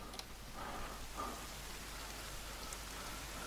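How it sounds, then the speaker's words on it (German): Steady rain falls in the survival video game The Forest, a faint, even hiss of drops with no voices or thunder. "Toll, weißt du, jetzt regnet's."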